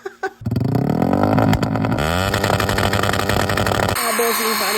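Motorcycle engine being worked on during a repair amid a storm, starting up after brief noises and running loudly with revving, pitch sweeps and rough harmonic buzz close by, with voices speaking over it.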